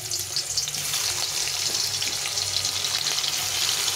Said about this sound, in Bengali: এখন এই মাছটাকে তেলের মধ্যে ছেড়ে দেব